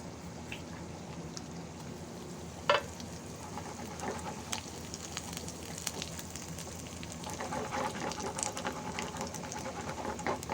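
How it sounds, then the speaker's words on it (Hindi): Steady crackling sizzle of cumin seeds frying in hot oil, with a sharp pop early on and the hiss growing slightly livelier toward the end. "ये ज़ीरा हम डालेंगे ऑयल में।"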